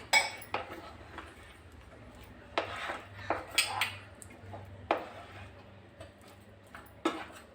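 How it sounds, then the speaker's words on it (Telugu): Peanuts are mixed into jaggery syrup in a pan, giving intermittent clinks and scrapes of a spoon against metal, close and fairly quiet, with no talking. "పల్లీలను వేసుకొని దీన్ని ఒక్క నిమిషం పాటు మొత్తం పాకంలో కలిసేలా పల్లీలు మొత్తం కూడా కలుపుకొని"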